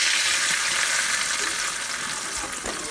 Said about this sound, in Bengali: এবার আমি আলু ভেজে নেব, তেলের মধ্যে দিয়ে দিচ্ছি লবণ